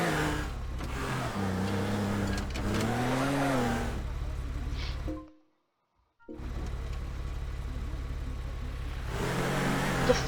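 Car engine driving in the video game Teardown, a steady mid-range drone with revving pitch sweeps, abruptly cutting out for about a second before resuming.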